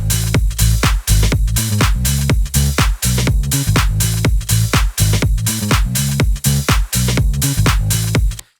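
A sine wave synth bass sits low in a dense dance-pop mix in the style of a hit song, felt as a smooth sub layer beneath a steady pounding beat and bright synths, with no voices.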